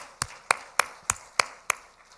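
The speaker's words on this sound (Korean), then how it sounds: "우리 하나님께 영광의 박수 드리겠습니다" Applause in a Korean church Sunday afternoon worship service, heard as six sharp, evenly spaced claps in a steady rhythm, fairly close and crisp, with a faint tail after the last one.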